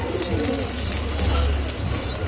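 A pigeon chick gulps and pulls at food while being hand-fed, giving a close, steady, low rustling and gulping with faint squeaky bird sounds over about two seconds.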